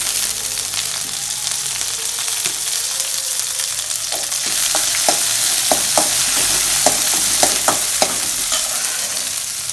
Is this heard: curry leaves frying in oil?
yes